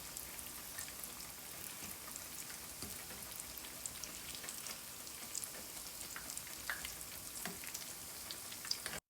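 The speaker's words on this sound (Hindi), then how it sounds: "इसे मैं मीडियम फ्लेम पे फ्राई करूँगी तकरीबन 5 से 6 मिनट।" Chicken nuggets frying in oil over a medium flame, a steady, fairly quiet crackling sizzle with scattered small pops throughout.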